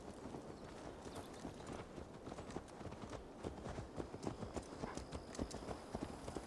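A horse's hooves clip-clop steadily in the video game Assassin's Creed Valhalla, a quick, even, close beat that carries on throughout over faint background noise.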